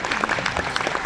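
An audience applauds a child playing the mighty Bhimsen in a Mahabharat stage event, with dense, steady clapping close by and little else over its brief span.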